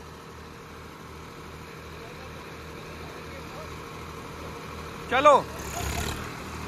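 A Swraj 744 FE tractor engine runs at a steady idle-like rumble with a regular low throb, while a person speaks briefly near the end over a short louder burst.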